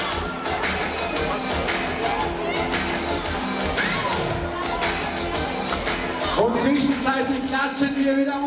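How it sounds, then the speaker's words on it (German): Spectators cheering and shouting at the finish line of the 2017 Sparkasse Marathon, a steady dense roar of crowd noise with excited voices throughout. "Einen großen Applaus für unsere Finisher im Marathon."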